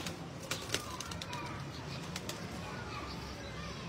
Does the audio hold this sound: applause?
no